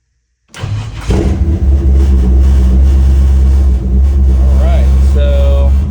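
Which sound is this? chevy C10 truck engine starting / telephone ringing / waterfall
chevy C10 truck engine starting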